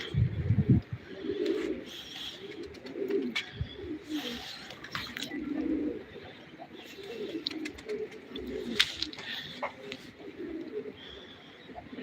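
A pigeon coos repeatedly in soft, low rounded phrases, with faint chirps and light background noise between calls; voices murmur faintly at times.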